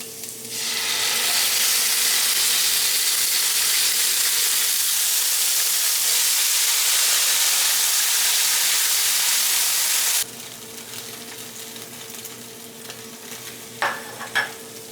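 Corn, condensed soup, tomatoes and green peppers heating in a pan give a loud, steady, close sizzling hiss for about ten seconds, then it cuts to a much quieter simmer with a couple of soft clinks near the end.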